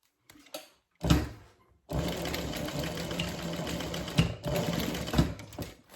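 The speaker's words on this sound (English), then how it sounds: "Baste this on really quick." A sewing machine bastes a D-ring tab onto a Denver double zip bag, running in close, loud bursts of rapid stitching separated by brief pauses, with a short start before a longer steady run.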